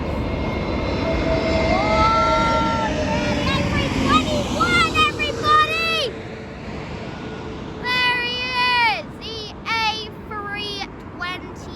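Airliner landing at London Heathrow, loud jet engine roar and whine nearby, rising then falling pitch as it passes, with a voice speaking over it.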